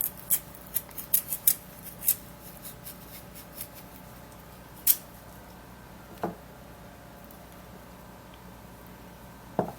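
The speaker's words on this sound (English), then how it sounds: "Now what you do is to cut your carrots." Carrots are cut on a board, giving faint, sparse, sharp ticks at an irregular pace in a quiet room, clustered early and thinning out later.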